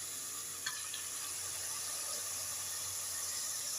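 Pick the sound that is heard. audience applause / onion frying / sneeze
onion frying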